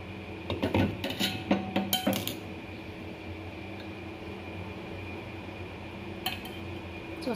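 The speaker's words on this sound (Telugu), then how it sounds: "స్టవ్ ఆఫ్ చేసేసి ఇప్పుడు మనము ఉడకట్టుకుందాం" Metal pots and cups clink and clatter in a quick burst while masala ginger tea is strained at a home stove, then a soft steady hum fills the rest, with one more faint clink near the end.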